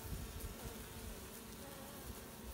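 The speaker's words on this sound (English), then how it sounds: "There are that many bees." A dense, steady buzzing of many honey bees in a hive, close and continuous, with a low droning hum throughout.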